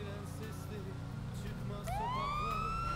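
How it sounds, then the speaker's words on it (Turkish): A police car siren in the video game GTA V starts up partway through, rising in a clear wail over a steady engine hum and road noise, with a voice speaking underneath. "Sirenler açık olduğu için hızlı gidebilirsiniz memurum."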